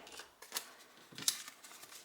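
Paper banknotes are shuffled and slid across each other by hand during cash stuffing, a few quiet crisp rustles and flicks close by with no talking.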